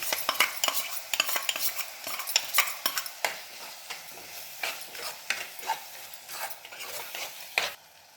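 Masala paste sautéed with tomatoes for chana masala, stirred briskly with a spoon against the pan in a quick run of scraping clinks over a light sizzle, easing into slower, spaced strokes.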